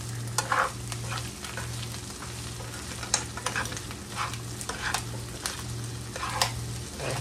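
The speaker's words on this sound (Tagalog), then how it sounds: "Saka nyo na halo-haloin yung itlog pag okay na." Ground pork sisig with egg sizzles steadily in a pan while a spatula scrapes and stirs in irregular strokes, close and moderately loud with no talking.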